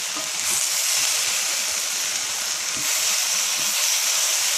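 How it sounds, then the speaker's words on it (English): Chicken and vegetables stirred in an overfull frying pan for a casserole: a steady, loud, close sizzle with soft scraping and shifting, continuous throughout, no talk. "Give it a good stir"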